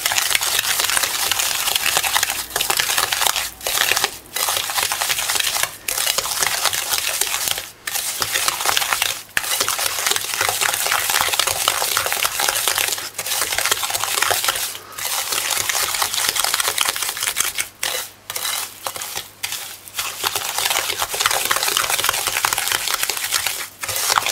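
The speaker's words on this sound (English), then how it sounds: "you just mix it in properly" Banana bread batter being mixed by hand in a bowl, a steady wet crinkling, stirring texture with occasional sharp clicks and knocks, close and continuous with no talking.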